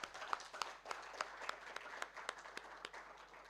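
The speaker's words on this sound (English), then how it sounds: "may I request all of us to give a round of applause to ourselves" Summit audience applauding at the close of an election integrity conference, a faint, distant wash of clapping with scattered sharper individual claps.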